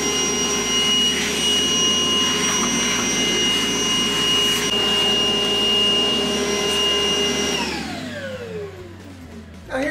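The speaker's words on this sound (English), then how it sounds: "clean up the dust that's on this saw currently with this vacuum cleaner" A vacuum cleaner with a long hose roars steadily at close range as it cleans dust off a saw, its pitch shifting as the motor winds down near the end.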